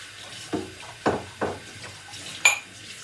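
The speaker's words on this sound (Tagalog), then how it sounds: "Tubig na mainit na kasi lumalabas dito sa gripo." Hot water running from a kitchen tap while plates are washed on a Saturday evening, with several soft clatters of dishes and splashes over a low steady water wash.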